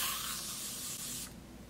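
A short, close burst of deodorant aerosol spray hisses for about a second, then cuts off abruptly.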